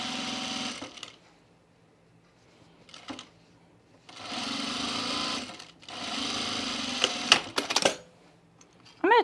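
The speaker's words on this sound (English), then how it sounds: "We're gonna sew this seam right here." A sewing machine stitches a seam on men's chino pants in three separate runs, each a steady close mechanical whir, with fabric handling and small clicks between the runs.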